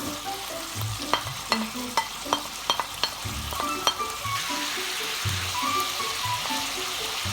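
Meat browning in a pan for Ali Nazik kebab as peppers and a tomato go in, with a loud steady sizzle, a run of sharp utensil taps and scrapes, then the frying swelling denser.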